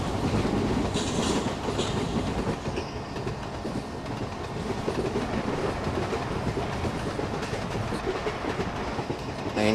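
An Indian Railways Kakatiya Express train runs in the Trainz Android game, with steady rolling rumble and rhythmic clickety-clack of the wheels throughout.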